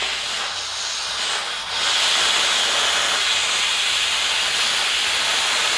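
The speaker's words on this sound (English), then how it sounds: "Let's see if he left off any steam." Steam hisses from a pressure cooker after cooking tortilla soup, starting softer and then jumping to a loud, steady, close rushing hiss that continues unbroken to the end, with no voices over it.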